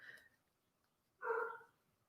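A house dog gives a faint brief yip, then one louder, fuller bark about a second later, reacting to someone outside, heard fairly near against a quiet room.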